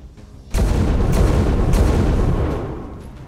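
Heavy weapons fire from enemy units in the video game XCOM 2 arrives as a sudden loud boom, followed by a dense rolling burst of shots that slowly fades out.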